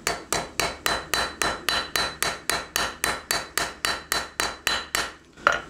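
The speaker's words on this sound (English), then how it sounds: "So now we're gonna take this little rounded part of the edge of the anvil and my rounding hammer." Rounding hammer striking a knife's bolster area against the rounded edge of an anvil during hand forging of an integral hidden-tang knife: about seventeen sharp, ringing metallic blows in a steady, even rhythm, close and loud, with no talking.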